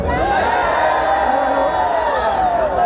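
A large festival crowd at Electric Forest cheers and whoops continuously, a loud, dense wall of voices with some shouting rising above it throughout.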